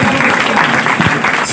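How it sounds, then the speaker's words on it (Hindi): Audience applauding at a grand lottery prize announcement at Ali Mart in Islampura, loud close clapping in a thick, continuous burst with rhythmic pulses. "बहुत तालियां"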